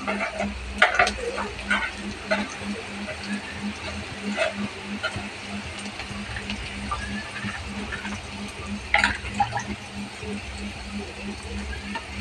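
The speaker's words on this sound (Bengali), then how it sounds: "পেঁয়াজ একটু ভাজা হয়ে গেছে, আলুগুলো দিয়ে দিচ্ছি।" Onions frying and being stirred in a pan for a Bengali prawn malai curry, a steady soft sizzle with intermittent scraping clinks of a spatula, moderately near with no talk.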